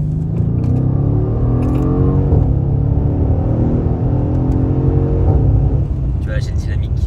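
A Mercedes S63 coupe engine drones loudly and steadily throughout, rising and falling in pitch as it revs, with people talking over it.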